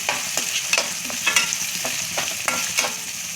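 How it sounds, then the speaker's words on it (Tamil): Onions sautéing in a pan with fresh mint and coriander, a steady broadband sizzle broken by regular scraping stir strokes roughly every half second, close and fairly loud with no voices. "இப்போ இதுக்கு தேவையான புதினா இதுக்கு தேவையான கொத்தமல்லிப்பா அதையும் கொடுக்கும் எல்லாத்தையும் சேர்த்து நல்லா வதக்கிடுவோம்"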